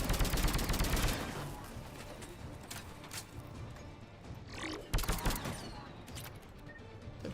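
Bursts of gunfire in Mass Effect 3, a heavy volley at the start then scattered sharp shots and a loud cluster midway, with someone talking over the combat.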